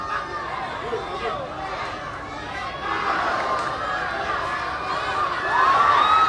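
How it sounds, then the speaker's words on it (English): Boxing crowd at a ten-round bout cheering and shouting in a steady, dense roar that swells louder toward the end, with excited voices mixed through. "The crowd is coming alive."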